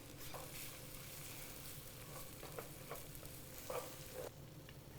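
Kale cooking in a pan with cheese and onions for a warm white bean dip, a continuous soft sizzle broken by several light stirring scrapes and taps, close and fairly quiet.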